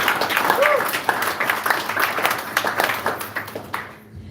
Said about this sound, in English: let's give our 2 speakers a huge round of applause